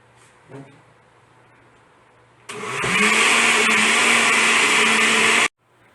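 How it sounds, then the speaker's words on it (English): A kitchen blender liquefies a lime pie mixture, starting abruptly after a quiet moment and running as a loud, steady whirring motor for about three seconds before cutting off sharply. "I turn on the blender and liquefy everything until it becomes a homogeneous mixture"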